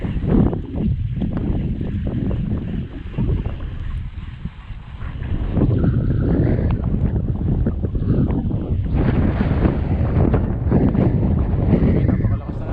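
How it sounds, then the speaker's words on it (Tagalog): Strong wind by a river buffets the microphone in a steady, loud rumble, with gusts rising partway through and no clear talking. "Napakalakas ng hangin."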